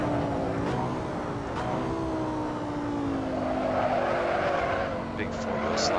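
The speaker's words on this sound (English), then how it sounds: "Big four-wheel slide there as I try to turn him with a little bit too much speed" A Lamborghini Sesto Elemento in the Assetto Corsa racing game slides on all four wheels through a corner taken too fast, its engine note droning steadily with tyre squeal layered on top, close and continuous, under someone talking.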